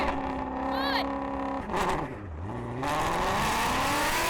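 A BMW M4 CS and a Shelby GT350 launch side by side in a drag race, engines revving hard with a rising whine, a brief dip as gears shift, then loud sustained acceleration roaring past close by.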